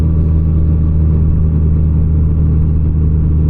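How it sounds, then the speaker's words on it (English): A Honda Goldwing touring motorcycle engine drones steadily at constant speed while riding, a deep continuous hum with a faint rush of wind and no voices. "nothing but the sound of the Honda Goldwing engine, maybe a little wind noise every now and then."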